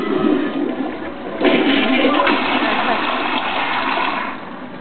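A toilet flushes with a Pokemon card dropped in, a close, rushing gurgle that surges loudly after a moment, churns steadily, then drains and fades.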